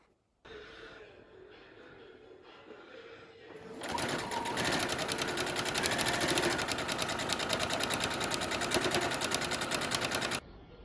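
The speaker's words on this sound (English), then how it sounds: "I'm going to sew along that X that I drew" A sewing machine stitching through a layer of fabric and batting, a steady fast mechanical whir that starts quietly and swells into a loud, even run before stopping abruptly, close up, with a soft voice briefly underneath.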